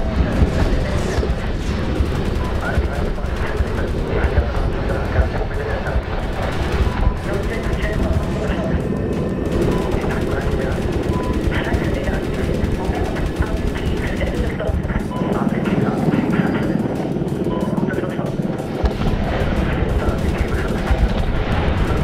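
Gunfire from a helicopter in the Medal of Honor game, a dense, continuous rattle of bursts and booms lasting throughout, with a voice talking over it.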